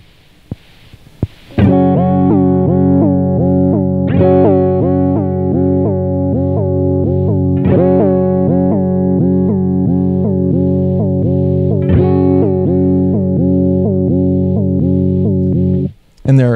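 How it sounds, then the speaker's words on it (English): Guitar chords run through a Chase Bliss Audio Warped Vinyl pedal set to square-wave modulation, the pitch stepping abruptly between two levels in a regular pulse. The sound is loud and alone, with new strums every few seconds, then cuts off near the end. "Let's listen to a square wave."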